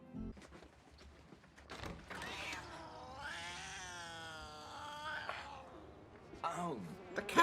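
A cat meowing and caterwauling in a drawn-out, wavering yowl, fairly close and moderately loud, with a few short thumps and rustles around it.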